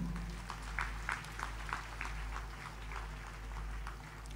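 Scattered, fairly faint applause from a church congregation after a sermon, individual claps rising over a steady low hum in a reverberant hall.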